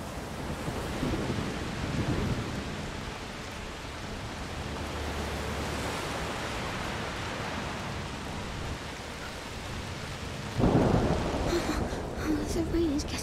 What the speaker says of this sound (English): The rain is getting worse.